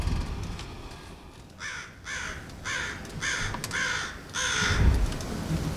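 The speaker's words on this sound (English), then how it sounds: "Listen to the crow." A crow caws outdoors in a run of about six loud, evenly spaced harsh calls, with a soft background hush between them.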